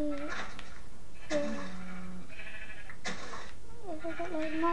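Sheep bleat in a farm game, with several wavering cries spread across the stretch along with faint, babbling, childlike voices in the background.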